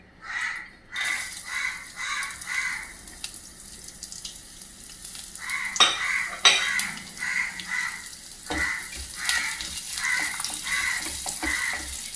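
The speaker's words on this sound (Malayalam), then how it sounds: "നെയ്യിൽ തേങ്ങ കൊത്ത് വറുക്കാം" Coconut pieces stirred and fried in ghee for a festive payasam, a steady sizzle broken by scraping stirs and several louder clatters, with crows cawing faintly in the background.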